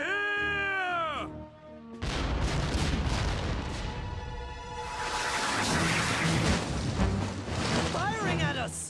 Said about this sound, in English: Firing at us!